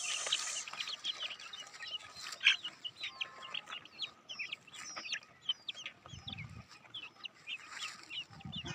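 A flock of village chickens clucks and calls continuously outdoors, with overlapping soft clucks, a sharp squawk near the middle and occasional low thumps nearby.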